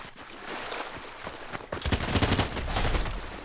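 Rapid gunfire in the video game Fortnite: a dense volley of loud, close shots bursts in after a quieter stretch of game ambience and keeps rattling to the end, with no voices over it.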